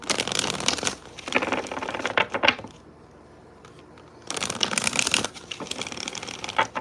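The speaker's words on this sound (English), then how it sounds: "A couple more shuffles here" Bursts of crisp tarot card shuffling, riffling and flicking in close succession, broken by a short quiet pause before the shuffling resumes.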